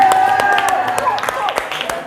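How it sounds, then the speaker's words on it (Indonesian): Scattered, uneven hand claps from a small group ring out sharply, while a voice speaks and sings over them throughout. "Tepuk tangan dulu untuk kita semuanya."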